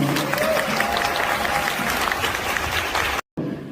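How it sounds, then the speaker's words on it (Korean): Sustained applause from wedding guests for the bride and groom, a dense, even wash of clapping that holds steady throughout, then cuts out briefly near the end before resuming more faintly. "다시 한번 뜨거운 박수 부탁드립니다"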